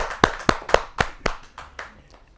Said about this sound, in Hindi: जहाँ जोरदार ताली के साथ स्वागत करें